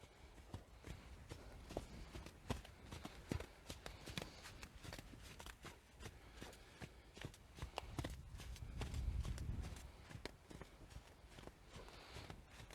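Faint, quick rhythmic hoofbeats of a horse trotting, with a soft thudding swell partway through and no talking.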